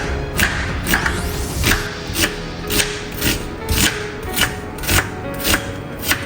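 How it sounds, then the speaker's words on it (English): A knife chops peppers and onions steadily on a cutting board, about two sharp thuds per second in an even rhythm, close and clear with no talking. "now we got our peppers and onions. Go ahead and cut these up."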